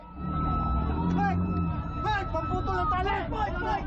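Sirens wail in rising and falling tones over a busy background of crowd noise and voices, fairly loud and continuous, at sea in the West Philippine Sea near Philippine inflatable boats.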